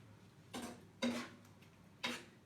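A spoon stirs coconut lime shrimp curry with basil in a pot, giving three brief, faint clinks against the metal at spaced intervals, with no talking.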